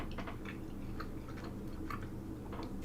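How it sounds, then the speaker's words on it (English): Someone chews malt loaf close to the mic, giving soft, irregular squishy bites and mouth clicks over a faint background hum, with no talking. "I'm eating some malt loaf, by the way. That's what you can hear me chewing on."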